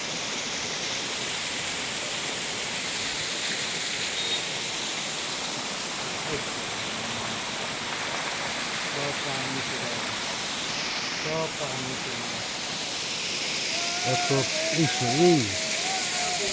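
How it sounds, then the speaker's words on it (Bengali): A waterfall at Dawki roars as a constant broad rushing hiss, dense and unbroken, with faint voices briefly rising over it near the end. "এই যে ঝর্ণা, এরকম ঝর্ণা হাজার হাজার, কত দেখব, কত ভিডিও করব।"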